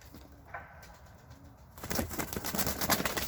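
Young tumbler pigeon chicks are handled up close, with a faint coo early on and then a burst of loud, fluttering wing flaps that continues to the end.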